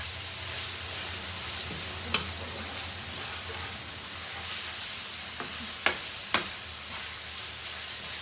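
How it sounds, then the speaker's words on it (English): Mince sizzling and simmering in a pan as it is stirred, a continuous close frying hiss broken by a few sharp scrapes of the spoon. "I'm just mixing the mince now"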